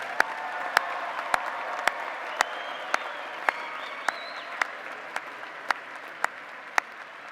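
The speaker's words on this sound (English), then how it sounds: "Let us applaud these candidates from the College of Engineering." Scattered applause from a university commencement audience greets engineering graduates, sharp individual claps ringing out at a steady beat over a soft hall murmur.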